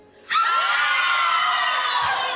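A studio audience of girls on a Chilean evening talk show bursts into loud, high-pitched shouting and cheering after a brief quiet moment, sustained and close until the clip ends.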